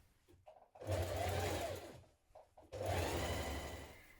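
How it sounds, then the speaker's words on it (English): A sewing machine stitches the side seams of a long coat in two close, steady runs separated by a short pause with light handling clicks. "Now you're going to pin your front to your back at the side seams and stitch this seam in place."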